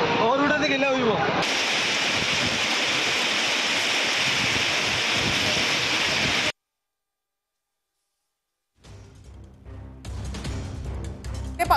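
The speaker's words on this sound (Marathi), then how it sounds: "वादळी वाऱ्यासह पावसाला सुरुवात झाली आहे आणि त्यावेळची ही दृश्य आपण या ठिकाणी पाहतोय" Stormy wind and rain lash Mumbai in a loud, steady roar of broadband noise for several seconds, then cut to silence before a rougher gusting wash returns.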